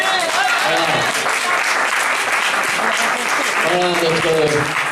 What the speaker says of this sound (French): On peut applaudir Christophe.